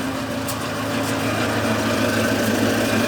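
A homemade generator's engine runs steadily outdoors in the snow, a continuous close mechanical drone with a low hum and light vibration, holding even throughout with no voices.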